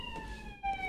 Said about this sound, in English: There's another siren, but it's on the podcast.